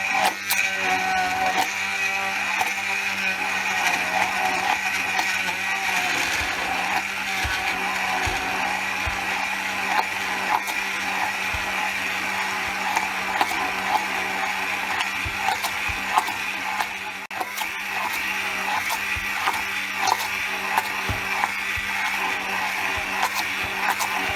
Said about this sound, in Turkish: Şimdi ben bunu blenderdan geçireceğim.